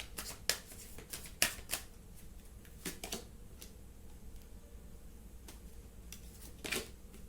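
Tarot cards handled and drawn on a table: soft scattered slaps and shuffling flicks, irregular and close, with brief pauses between card movements.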